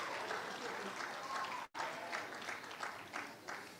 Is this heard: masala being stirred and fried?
no